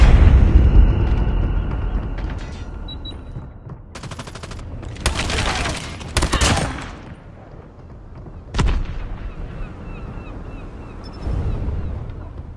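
Gunfire in the mobile shooter Call of Duty Mobile: loud bursts of automatic fire and booming shots come in several clusters with quieter gaps between them, close and punchy.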